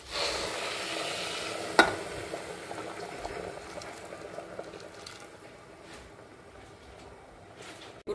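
Boiling water poured into rice frying with masala and stuffed brinjal makes a fizzing, bubbling hiss that starts with one sharp clink and then slowly fades, close and fairly quiet.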